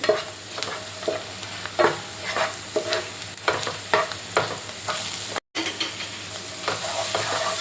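Cashews frying in a pan for paneer bhurji, a continuous close sizzle punctuated by rhythmic spatula scrapes and knocks, with a momentary dropout midway and no speech.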